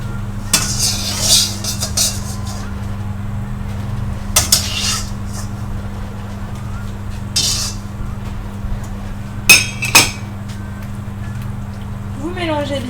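Aubergines being stirred into Thai red curry in a pot, with clinks and scrapes of utensil against the pot in several short bursts over a steady low hum, close by.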